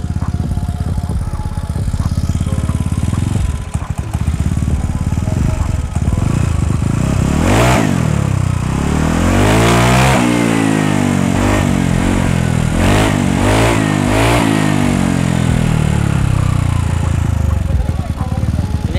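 Loud motorcycle idling with a rough racing exhaust, then revved hard several times in sharp rising bursts, with a voice talking near the start.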